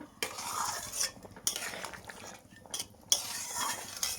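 A spoon stirring rohu fish curry with potato and drumsticks in a pot, quiet scraping strokes in a few separate bursts with soft clinks between them, close and alone.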